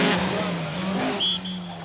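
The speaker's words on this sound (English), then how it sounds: "Vatanen leads the Opel challenge in his Manta 400" Rally cars race on the 1983 Rally Sanremo, including an Opel Manta 400: a steady, fairly loud engine drone with a brief high whine near the end, heard alone without talk.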